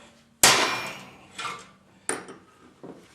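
Rivet set with a rivet gun or hammer into an aircraft rear spar during a Bearhawk repair: a sharp loud metallic strike followed by two or three lighter taps and a second firm hit, close and without talk.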